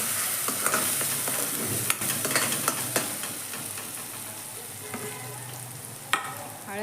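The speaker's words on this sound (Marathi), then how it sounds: "वाटून घेतलेला मसाला भाजूनच घेतलेला होता मी तरी छान भाजून घ्यायचा" Ground spice masala roasts in a pan for misal with a soft continuous sizzle and scattered scraping, stirring clicks, and one sharper knock near the end.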